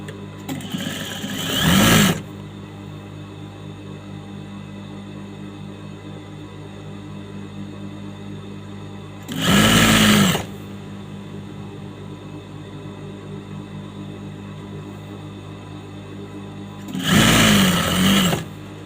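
A sewing machine stitches a folded fabric lining for a churidar top in three short whirring bursts separated by long quiet pauses, close and clear, with no voices.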